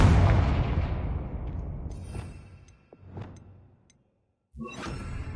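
A Confringo blasting spell goes off in a wizard video game: a big booming blast that fades over several seconds, then smaller bursts and whooshes follow before a sudden cut and another burst of sound.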